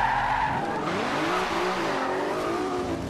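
A GTR's tires squeal and skid under hard braking in the racing game Forza Horizon 2, loud and continuous over a strained engine drone.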